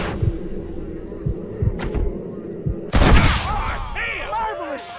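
Gunshots in the video game Red Dead Redemption, with a few sharp distant shots early, then a loud close blast near the middle followed by a ringing tail and game sounds.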